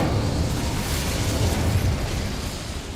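An Incendio fire spell bursts into flame in the Hogwarts Legacy video game, a loud, rumbling fiery roar that swells and then slowly fades, heard alone.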